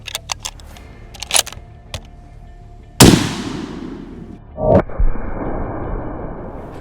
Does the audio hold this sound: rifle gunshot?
yes